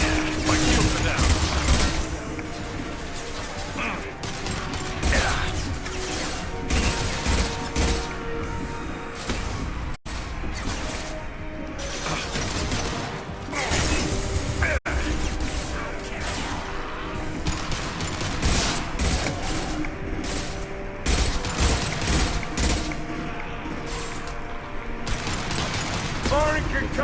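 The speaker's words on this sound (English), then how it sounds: "Firing concussive shot!" Rapid bursts of sci-fi gunfire and mechanical weapon clatter from a Mass Effect firefight, including a concussive shot, dense and continuous throughout with voices calling out over the action.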